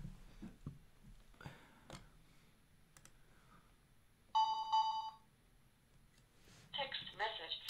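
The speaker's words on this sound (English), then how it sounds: "Oh, got a text message. So that's fun. Our phone announces who we get text messages from." A phone's text message notification chime rings out clearly for about a second in a quiet room, with keyboard clicks, brief talk and a later electronic voice announcement around it.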